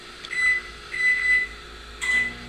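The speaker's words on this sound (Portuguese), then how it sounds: "agora a gente vai levar ao micro-ondas por 2 minutos" A microwave oven runs while cooking brigadeiro, a low steady hum overlaid by a few rising and falling swells of whirring, fairly quiet and close, with no one speaking.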